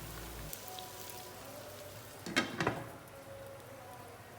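Tomatoes and green chillies fry in a pot for chana pulao, giving a steady soft sizzle with a brief louder spatter and stirring clatter midway.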